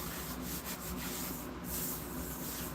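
A cherry wood bowl spins on a lathe while abrasive paper rubs across it, giving a steady, close hiss of sanding with slight surges and no break.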